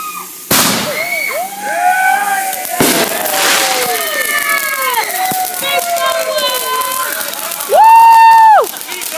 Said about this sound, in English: That was a sky firework right there.